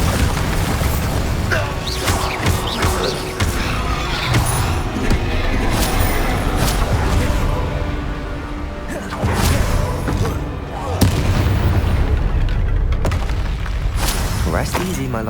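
Bombarda spell blasts in the Hogwarts Legacy video game, a run of heavy booming explosions and crashing impacts layered with clattering debris, loud and close, with a brief dip before a renewed burst.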